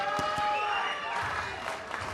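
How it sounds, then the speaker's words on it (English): A wrestling crowd at a steel cage title match claps in a slow, rhythmic Terminator clap, a few sharp hand claps standing out over crowd noise and talk. "Terminator clap again."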